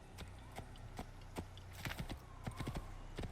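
Horse hooves clop on the ground in Assassin's Creed, irregular distinct strikes at a walking pace, fairly faint with no talk over them.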